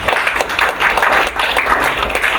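Audience clapping at a bank customer forum, a dense, steady wash of many hands close by, continuous through the whole short stretch.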